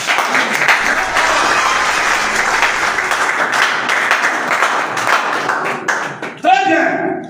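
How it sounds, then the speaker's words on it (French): An audience at a church teaching breaks into sustained applause, loud and even for several seconds, then thins out into scattered claps near the end. "C'est fort, on acclame ça."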